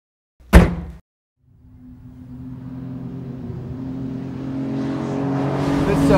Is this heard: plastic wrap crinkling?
no